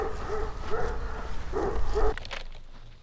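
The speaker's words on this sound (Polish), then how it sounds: "Azja i Tanosa, akurat tacy rowerzyści przyjechali, to nasze pieski dają nam znać." Dogs bark at passing cyclists in a rural yard, a run of loud close barks in a steady rhythm, then a few footsteps and quieter sounds as the barking stops.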